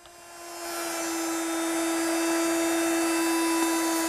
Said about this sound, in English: I'll do that using my router with a chamfering bit.